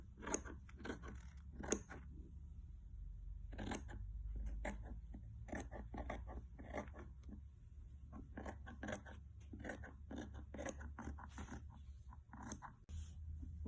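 Scissors cut through dress fabric along a pinned pattern piece for a bodice, a series of short close crisp snips and rustles repeating steadily with brief pauses, no talking.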